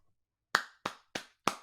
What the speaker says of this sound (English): I'm going to go ahead and give you a round of applause